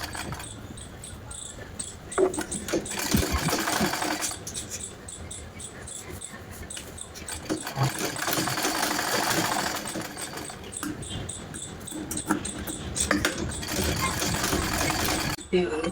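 A sewing machine runs in long, steady bursts of fast rattling while basting a strip on a simple blouse, with a voice talking over it.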